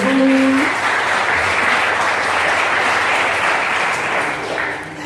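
A church congregation breaks into loud, sustained applause for Jesus during worship, a dense clapping roar that holds evenly and tapers slightly at the end.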